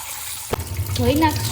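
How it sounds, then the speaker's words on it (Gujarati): Water pours and splashes over split green moong dal with husks, rinsed in a vessel for Gujarati khichdi; a sudden gush starts midway and continues as steady close sloshing and running water. "પાણીથી પહેલા ધોઈ નાખશું"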